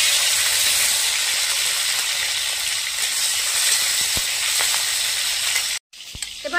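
Tomato pieces frying in hot mustard oil in a kadai give a steady loud sizzle and hiss with occasional pops, cutting off abruptly near the end before resuming faintly.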